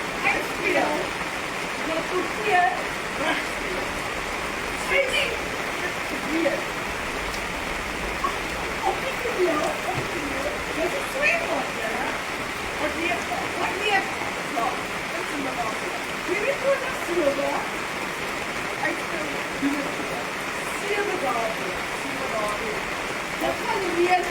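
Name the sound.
rain falling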